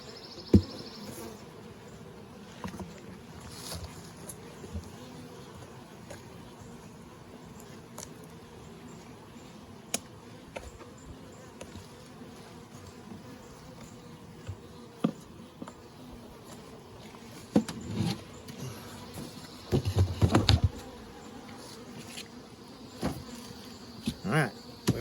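Honey bees buzz faintly around an open hive, a quiet continuous drone with scattered close fly-bys and occasional handling knocks and rustles.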